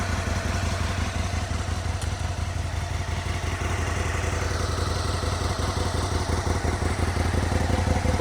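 A stock Aprilia RSV1000 motorcycle found in a barn, engine running steadily close by with a deep, even throb and clattery mechanical texture, unbroken throughout.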